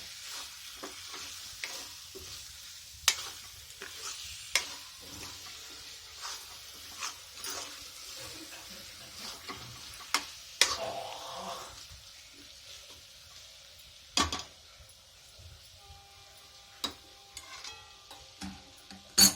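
Chicken frying in masala and oil in a pan, stirred with a utensil: a steady soft sizzle runs throughout, broken by sharp scraping and clattering strokes of the spoon, close and alone with no talk.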